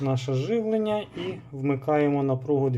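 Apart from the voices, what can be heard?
No everyday noise stands out behind the speech.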